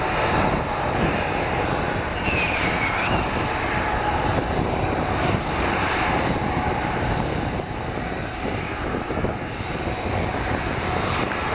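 Alaska Airlines Boeing 737 jet airliner at Portland airport, a loud continuous engine roar filling the whole stretch, steady and broadband with a faint rising whine partway through.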